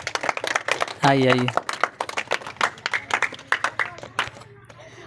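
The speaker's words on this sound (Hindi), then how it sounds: "तो इनके लिए भी ताली बजा दो" Students clap at a village coaching centre's Teachers' Day celebration, a scatter of sharp hand claps running beneath a speaker's voice and a brief sung or called-out phrase.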